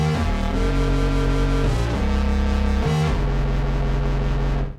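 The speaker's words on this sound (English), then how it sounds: "You can hear it's got a bit of that distortion." Bass guitar played through an EarthQuaker Devices Time Shadows pedal, a loud, gritty distorted tone with sustained low notes shifting in pitch, then cutting off at the end.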